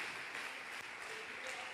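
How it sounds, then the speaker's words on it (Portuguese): Church congregation clapping together during a worship service, a steady moderately loud wash of applause that continues evenly throughout. "você vai dar uma linda salva de palmas para aquele que é eterno"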